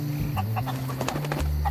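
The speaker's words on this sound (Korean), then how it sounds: "꼬꼬댁 꼬꼬댁 일로와 꼬꼬댁 일로와" A chicken in the pirate video game Sea of Thieves gives a quick series of short, clipped clucks over steady game music and ambience.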